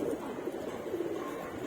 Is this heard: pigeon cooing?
yes